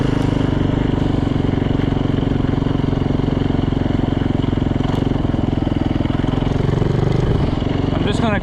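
A rebuilt Yamaha YZ450 dirt bike runs at a steady, loud, close engine drone that throbs continuously, with a brief rev near the end.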